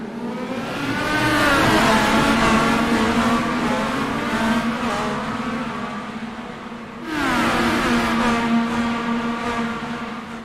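Indy race cars accelerate off the green flag start at Dover, their engines whining loud and close and climbing in pitch together, then a second surge of revving rises again after a short easing.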